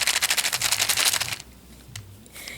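Plastic Game Boy Advance game cartridges, a collection of around forty, rattling and clacking together in a dense rapid burst for over a second, then a few scattered clicks, close up.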